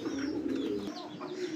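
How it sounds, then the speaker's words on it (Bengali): Yellow Lahori pigeons coo close by in a low, rolling murmur that pauses briefly and then resumes. "ইয়েলো কালারের মধ্যে আরও একজোড়া কিন্তু লাহরি কবুতর দেখেন"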